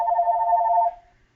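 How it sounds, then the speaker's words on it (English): A single telephone ring sounds close and clear as a steady electronic tone for about a second, then cuts off into near silence. "It's the phone."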